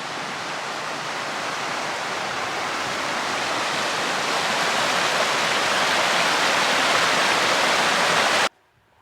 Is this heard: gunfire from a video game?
no